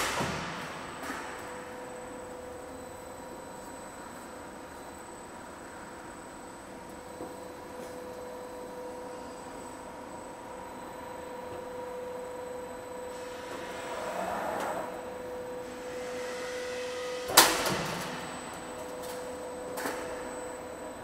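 An L angle trim roll forming machine runs with a steady mechanical hum and faint whine, plus a few light clanks and one sharp metallic tick near the end, quiet and continuous.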